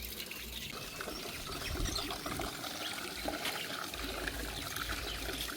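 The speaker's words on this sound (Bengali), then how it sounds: "তো আস্তে আস্তে ধুয়ে নেওয়া হচ্ছে চিংড়ি" Soft shrimp are gently rinsed by hand in water, with close splashing, trickling and dribbling sounds that continue steadily throughout.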